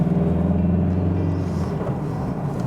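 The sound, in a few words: Mazda CX-3 1.5-liter diesel engine driving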